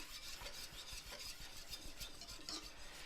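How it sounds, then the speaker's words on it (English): Sausage gravy whisked briskly in a pan over high heat, a faint rhythmic scraping and swishing repeating about twice a second with a soft bubbling sizzle beneath, no talking. "I stay with it whisking the whole time, because this will actually help it to thicken faster."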